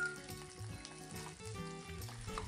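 Food browns in a hot pan while cooking with beer, giving a steady crackling sizzle with scattered pops, heard close and continuous, with faint kitchen sounds mixed in.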